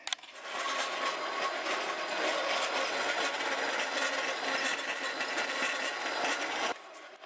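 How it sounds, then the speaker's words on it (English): A bandsaw cutter slices through aluminum stock with a steady, continuous grinding hiss, fairly quiet and alone, stopping abruptly near the end. "out with more aluminum stock and over to the bandsaw cutter"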